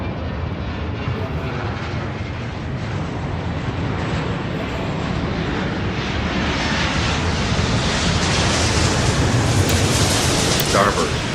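Jet aircraft engines roar in the Airport Madness game, a loud continuous broadband rumble that swells slightly toward the end, with no breaks.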